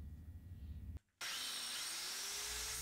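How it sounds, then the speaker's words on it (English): A power drill drilling out a broken stud on an Atomic 4 engine's cylinder head grinds steadily, cuts out for a moment, then bites back in louder with a rising whine. "Next, we'll have to drill this broken stud out."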